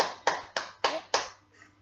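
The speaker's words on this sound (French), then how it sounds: "Parce que on peut l'applaudir parce que quand même il a réussi." Four crisp hand claps in a steady rhythm, close and distinct, applauding a player during a Minecraft Fort Boyard event, followed by a softer fading tap.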